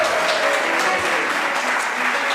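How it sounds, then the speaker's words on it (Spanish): Audience applause at a Bible week church gathering, a short, steady burst of clapping at moderate loudness with no talking. "Un fuerte aplauso a eso."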